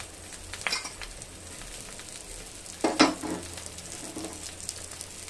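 Bangda mackerel fish frying on a tawa, a soft steady sizzle with a few sharper crackles and a brief clatter of utensil, heard alone without talk.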